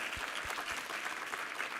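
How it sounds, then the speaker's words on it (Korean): A church congregation applauds steadily at a Sunday service, many hands clapping together in a dense, even patter that holds at a moderate level throughout. "우리 하나님께 감사와 영광의 박수 올려드리겠습니다"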